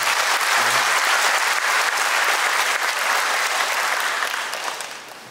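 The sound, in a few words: audience applause at a town hall meeting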